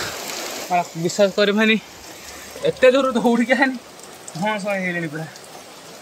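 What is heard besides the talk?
heavy rain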